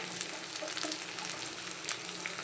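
Vegetables, including freshly added eggplant, fry in a pan with a faint, continuous sizzle broken by a few light clicks and pops.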